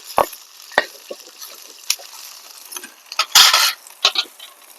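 Red chillies, fenugreek seeds and cumin fry in a pan with a light sizzle, broken by several sharp scrapes and stirs of a spatula against the metal.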